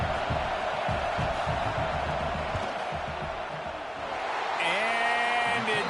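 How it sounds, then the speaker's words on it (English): A stadium crowd roars steadily and loudly through a field goal attempt at an American football game, with a brief tonal horn-like sound near the end. "This crowd trying to do its part to get inside the kicker's head."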